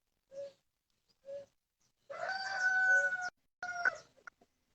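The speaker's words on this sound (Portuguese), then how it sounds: "Olha o galo! Canta, galo!" A rooster gives two short, separate clucks, then a long, loud crow and a shorter second crow, all fairly close and clear against quiet surroundings with no speech.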